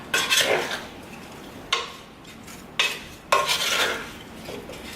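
A spoon scrapes and clinks against a pot as it gently mixes peach cobbler filling, coming in four separate strokes with quiet gaps between them, close and clear.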